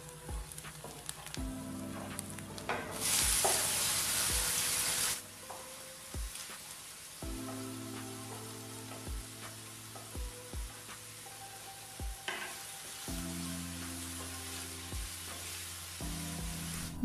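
Onions and tomato sizzle and crackle in a pan while being stirred, with a loud burst of hissing early on as ingredients go in, then steady frying with scraping strokes recurring throughout; horizontal tonal bands suggest music playing underneath.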